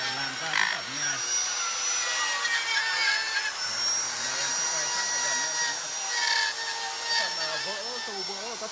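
A chainsaw cuts into a large block of Huong Ta wood for a sculpture, its engine whining with rising and falling pitch as it bites, loud and close, with a voice heard in the mix.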